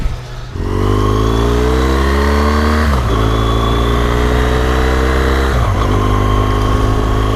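A BMW R1200GS motorcycle pulls away on a touring ride, its engine revving up through the gears with rising pitch sweeps and brief dips at each shift, loud and close.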